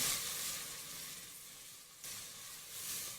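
Garlic ginger paste frying in a pan gives a steady, faint sizzling hiss, with soft stirring scrapes mixed in and no voices over the sound.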